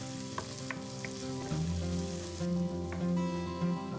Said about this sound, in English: Add half of the chopped onion and the asparagus. Let them fry on moderate heat.